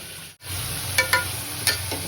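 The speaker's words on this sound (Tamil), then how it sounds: "வெங்காயம் போட்டு வதக்க போகிறாங்க" Onions frying in hot oil in a pan for mutton kurma make a steady close sizzle after a brief drop at the start, with a few spoon scrapes on top.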